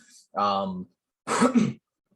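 Two short, hoarse coughs close to the microphone, separated by a brief silence.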